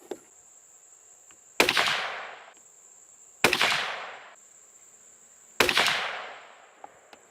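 Three sharp .22 WMR rifle shots from a CZ 457 fired outdoors at a 100-yard range, evenly spaced about two seconds apart, each a loud crack with a short decaying tail, over a faint steady insect-like whine.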